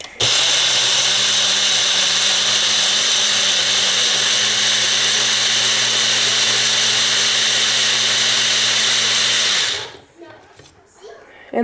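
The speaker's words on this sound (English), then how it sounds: "It is completely blended." A blender purees homemade baby food in a cup with a blade, a loud, steady whirring drone that runs unbroken for nearly ten seconds and then cuts off abruptly into near silence.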